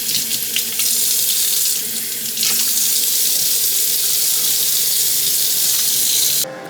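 Tap water runs hard and steady into a sink while dyed purple hair is rinsed, a close continuous rush with small shifts in tone as the stream is interrupted, ending abruptly.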